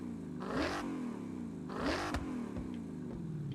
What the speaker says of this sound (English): Sounds like a muffler delete.